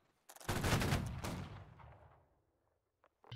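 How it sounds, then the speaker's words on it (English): A close musket volley crashes out in Holdfast: Nations At War, a line-battle game: a dense burst of overlapping shots that rolls and decays over about two seconds, then silence broken by a couple of faint later clicks. "They're shooting at us."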